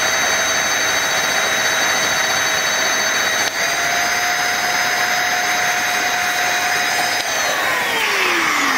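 An electric multipurpose air blower runs with a loud, steady whine and rushing air, holding constant for several seconds before its pitch slides downward near the end as it winds down.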